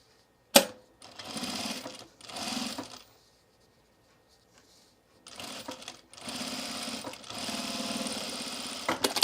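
A sewing machine stitches decorative apron fabric in several close, steady bursts of running, separated by short silent pauses and a sharp click at the start.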